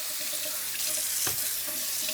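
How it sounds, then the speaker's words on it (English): Tap water pours steadily into a kitchen sink over separated layers of leek being rinsed of sand and grit, a close, continuous splashing rush with no voices. "we're going to take this and rinse them under the sink"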